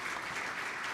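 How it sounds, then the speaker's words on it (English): A conference audience gives a round of applause for a panel at a digital payment event in Ethiopia: dense, steady clapping from many hands that fills the whole moment without a break. "Round of applause, please"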